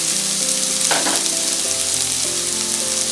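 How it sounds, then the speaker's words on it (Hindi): Ginger garlic paste hitting golden brown onions frying in a pan, a loud continuous sizzle with a sharp burst as the paste goes in, a steady hiss afterward and no voices. "हमारे प्याज गोल्डन ब्राउन हो चुके हैं, अब हम इसमें अदरक लहसुन का पेस्ट डालेंगे"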